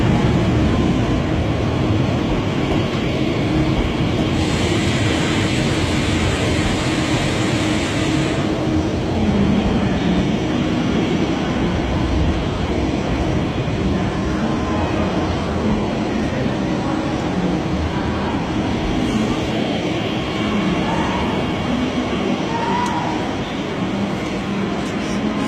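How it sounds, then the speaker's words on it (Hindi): A German local train passes, giving a long, loud, continuous rumble and rail roar that holds steady throughout, with a brief brighter hiss partway through. "जर्मनी की लोकल ट्रेन।"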